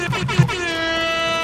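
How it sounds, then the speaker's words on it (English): Air horn blasts during a chaotic livestream chat moment, a steady loud sustained honk with a few short bursts at the start. "Air horns, let's go."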